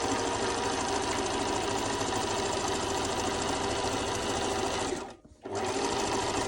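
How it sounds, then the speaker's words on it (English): A sewing machine runs steadily as it stitches a diagonal seam on a fabric travel trinket tray, its loud continuous motor hum pausing briefly near the end before resuming. "Needle down, one diagonal stitch, turn around the corner."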